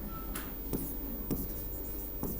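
Someone writes on a board during a Hindi language lesson, with a few quick, scratchy strokes tapping at irregular intervals, close and fairly quiet, with no speech over them.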